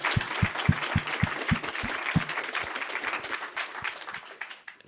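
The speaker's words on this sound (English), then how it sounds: "please join me in giving Mateo a round of applause" A lecture audience breaks into applause, with several strong nearby claps standing out over the wider crowd clapping before it gradually fades.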